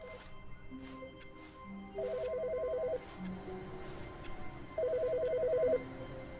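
A telephone rings in The Stanley Parable, two bursts of warbling electronic trills about a second long each, separated by a pause, over a quiet game ambience with faint background tones.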